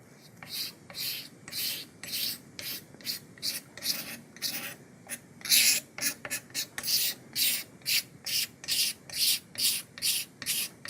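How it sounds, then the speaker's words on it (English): Repeated rasping scrapes of a razor blade leveling pore filler across a wooden surface, coming in a steady rhythm of short strokes, close and fairly quiet. "I'm going to use my razor blade as a leveler"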